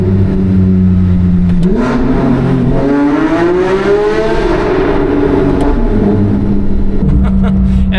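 A Porsche 911 GT3 engine revs hard inside a tunnel, pitch climbing steeply then falling back, loud and close with reverberant echo, with the idle resuming afterward.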